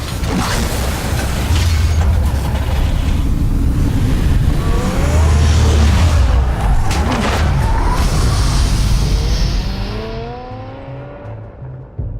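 A car drives in the Batman Telltale Series video game with a loud engine roar, rising revs and tire skids through the middle, then the sound fades away toward the end.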